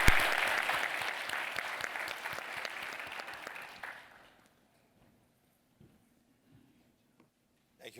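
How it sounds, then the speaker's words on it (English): Audience applause at an entrepreneurs' summit panel session, a sustained burst of clapping from a crowd lasting about four seconds before cutting off into near silence. "Let's give him a round of applause and a round for our panelists."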